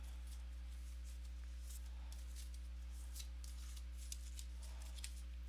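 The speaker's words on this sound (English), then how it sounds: "I hear keep shuffling, so we'll keep shuffling." Oracle cards are shuffled by hand in faint bursts of soft riffling and rustling over a steady low electrical hum, with no talk.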